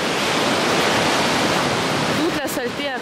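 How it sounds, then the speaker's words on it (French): Sea waves surge and break on a stony beach in a continuous loud roar of water and surf, with a short rattling wash near the end. "Font peur ces vagues."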